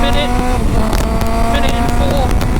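A Honda CBF 1000 motorcycle engine revs hard under acceleration, its steady harmonic whine rising and shifting close to the microphone while a rider talks over the engine and wind.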